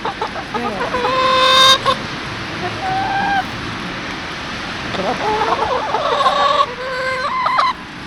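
Chickens clucking contentedly, a close string of soft, drawn-out calls and short clucks that come and go in bursts, loud and clear against a quiet background.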